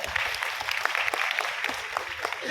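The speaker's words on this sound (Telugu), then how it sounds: "అందరు చప్పట్లు కొట్టాలని చెప్పుకుంటున్నారు" An audience applauding at a public talk, dense steady clapping from many hands throughout, moderately loud and slightly distant.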